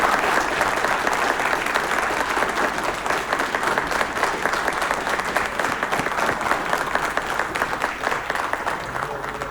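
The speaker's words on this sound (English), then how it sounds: "Another round of applause for Dr. Grosberg." An audience at a Darwin Day 2019 talk gives a round of applause for Dr. Grosberg, a loud, continuous wash of clapping from many hands that holds steady throughout.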